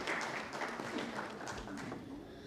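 Audience applause at a technical textiles conference in a hall, a soft, fairly distant patter of clapping that holds steady for a couple of seconds without voices.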